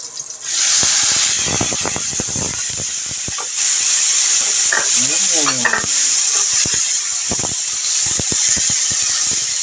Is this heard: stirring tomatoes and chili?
yes